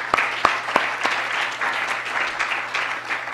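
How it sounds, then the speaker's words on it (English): Lecture hall audience at an orthopaedics and sports medicine talk claps together, a few sharp close claps standing out at the start before the applause settles into a dense, slightly fading patter. "One more round of applause for the three wise men."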